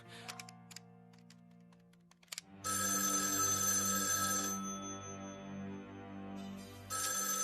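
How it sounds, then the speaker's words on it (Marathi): A telephone ringtone plays in an indoor room, a few soft tones first, then loud sustained repeating ringing close by, no voices. "काकू प्लीज फोन घे."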